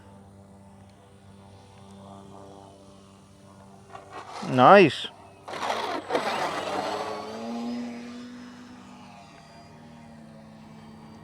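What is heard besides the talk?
FMS 1400mm Pitts v2 RC model plane flying touch and goes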